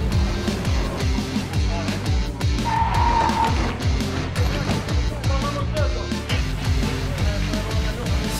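Fun Cup race cars lapping at the Spa 25 Hours endurance race, with some 120 cars on the grid: loud, continuous engine roar with repeated rising and falling revs and passing cars, plus a brief tire squeal.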